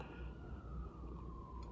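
A fire engine siren passes near a home close to a fire station, a faint sustained wail that slowly drops in pitch, heard over a low rumbling background.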